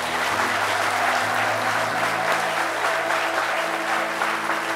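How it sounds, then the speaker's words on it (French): A studio audience on a French midday television show gives sincere, sustained applause, a dense even wash of clapping with no pauses. "ses applaudissements."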